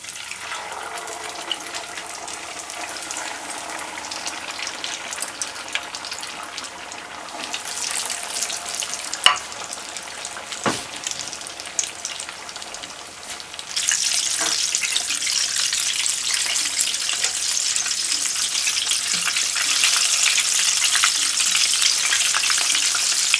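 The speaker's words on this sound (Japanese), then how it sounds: "揚げ出し豆腐を揚げていきます" Agedashi tofu deep-frying in hot oil makes a continuous crackling hiss with a few sharp pops. It grows noticeably louder and denser about midway through, with no voices.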